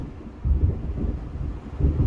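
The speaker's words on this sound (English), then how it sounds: "It seems there's a storm coming." Thunder rumbling from an approaching storm in the Alan Wake game, low deep rolls that swell and fade in a couple of waves, moderately loud with no voices.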